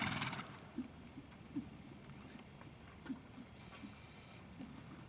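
Horse moving at a steady pace during a riding lesson, with soft rhythmic hoof thuds spaced about every second, muffled and mid-distance, over a low background murmur, with no clear talk.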